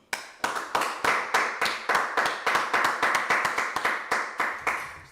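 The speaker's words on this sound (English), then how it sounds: "let's clap it up" A group at a religious class claps in unison, sharp single strikes falling in a steady beat of around three per second, close and distinct with quiet gaps between.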